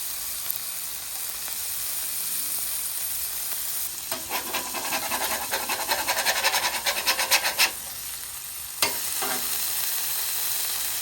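Close, crackling sizzle of a smash burger frying on a griddle, with a rougher burst of scraping and stirring in the middle before the steady hiss returns.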